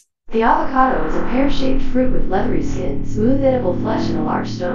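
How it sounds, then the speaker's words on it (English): Synthesized speech rendered with a generated reverb effect, one voice reading a sentence with a washy, echoing tail smeared over the words from start to finish. "Like the reverb token sounds like this."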